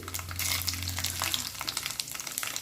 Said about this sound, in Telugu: ఇప్పుడు ఇది తిరగమాత వేసుకుందాం నూనె కాగిందండి ఒక స్పూన్ ఆవాలు కొద్దిగా జీలకర్ర మూడు ఎండుమిర్చి